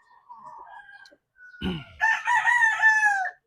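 An asil-cross breeding rooster crows nearby with one long, loud cock-a-doodle-doo, after a few soft clucks and a short thump.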